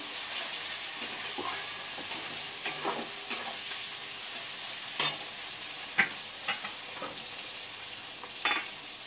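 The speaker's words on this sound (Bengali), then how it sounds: "ভালো করে নেড়ে দিতে হবে।" Chicken fries in a pan with a steady sizzling hiss while a utensil stirs it, scraping and clacking in occasional soft bursts. The sizzle stays moderate and close throughout.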